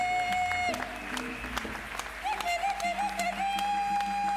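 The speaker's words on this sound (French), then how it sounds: "Nous allons bénir le Seigneur en applaudissant très très fort." Church congregation applauds during a service, scattered claps sounding over prominent sustained tones and voices, fairly faint and mixed, with people talking or singing alongside.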